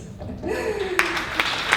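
Audience applause at a 2017 live album-release concert: a dense, steady wash of clapping with a few sharper individual claps standing out, filling the whole moment at moderate loudness.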